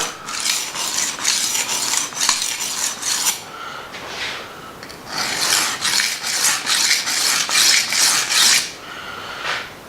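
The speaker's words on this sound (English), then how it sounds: "I'm sure you can hear it when the knife is going across it." Rasping scrape of a knife blade drawn repeatedly across a wet diamond sharpening stone, rhythmic strokes with brief pauses, close and loud.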